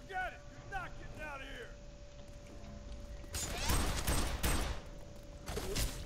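Gunfire in the F.E.A.R. 3 co-op shooter as a player shoots out a gate lock, a burst of loud shots over a steady game hum, with players talking just before.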